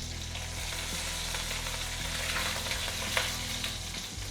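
Cumin seeds, asafoetida and green chilies sizzle and crackle in hot oil on a gas stove, a dense continuous frying hiss with faint pops and occasional stirring clinks, close and steady throughout.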